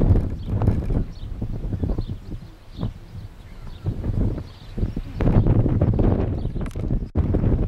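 Strong gusts buffet the microphone in rough, uneven bursts, a constant roaring rush of wind outdoors in England near a waterway with a wind farm in the distance, with no clear voices.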